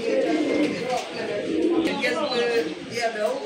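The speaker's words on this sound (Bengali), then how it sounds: "দেখার মতন কবুতর" Pigeons cooing in low, rolling murmurs nearby, with a voice talking over them.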